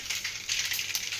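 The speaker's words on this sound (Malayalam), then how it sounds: "കടുക് പൊട്ടി വരുന്നുണ്ട്." Mustard seeds crackle and pop in hot coconut oil for a lemon pickle, a dense run of small sharp bursts close by, steady throughout and with no talk.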